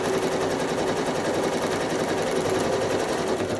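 A sewing machine running continuously at high speed while free-motion quilting close gridlines on a sawtooth star quilt block, a loud, even, buzzing drone with no pauses.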